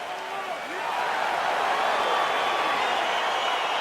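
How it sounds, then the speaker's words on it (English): An arena crowd in the video game EA Sports UFC 4 roars and cheers steadily as a fight begins, a broad sustained wash of noise that builds after the first second. "Crowd getting excited as this fight gets underway"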